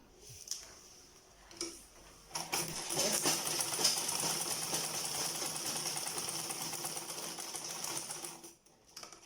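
A sewing machine stitches quilted leather for shoe slides, running in a steady rapid mechanical patter for most of the stretch after a few short starts, close and fairly loud with no talk.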